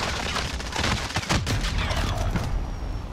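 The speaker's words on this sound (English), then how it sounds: "We're getting shot at" Rapid gunfire in Call of Duty Warzone, quick bursts of automatic shots cracking close and loud, followed by a tapering rattle near the end.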